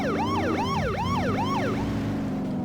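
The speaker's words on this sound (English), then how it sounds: "the horn itself is an actual police siren" A police-siren car horn in The Simpsons Hit & Run wails in a fast rising-and-falling cycle, loud and clear four times before cutting off, with a low engine hum underneath.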